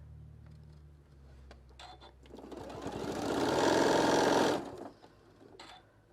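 A sewing machine stitches fabric for a shoulder wrap, a quiet whir that builds into a steady, louder mechanical hum for a couple of seconds before stopping, with soft handling rustles around it.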